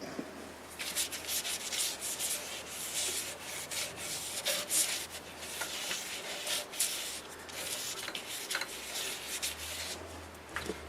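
Repeated rubbing strokes of cloth wiping finish over a black walnut live-edge turning, a steady scratchy swishing back and forth, close and fairly quiet.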